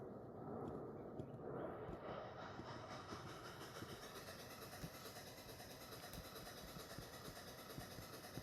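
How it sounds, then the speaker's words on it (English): Train sound from the video game Off Roading Epic, a steady rolling rumble with rhythmic rail clatter that carries on evenly throughout, fairly distant and without any talk over it. "I'll just spawn another train."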